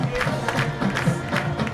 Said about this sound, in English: they're up standing cheering on that touchdown